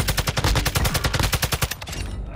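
Rapid automatic gunfire in a battle-royale shooter on Ashika Island, a loud, steady burst of evenly spaced shots that tapers off near the end.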